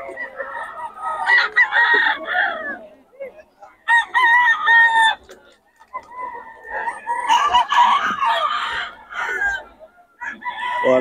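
Roosters and chickens at a poultry market in Bocaue, with repeated loud crowing and clucking from several birds in bursts across the clip, close and busy, with no talk.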